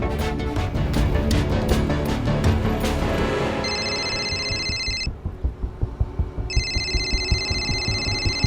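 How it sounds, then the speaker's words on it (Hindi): A telephone rings in a Hindi crime drama: bright, repeating electronic ring tones come in two bursts with a short gap between them, set against loud, tense background music. "मेरे एक इशारे पे किसी का भी फोन बजे"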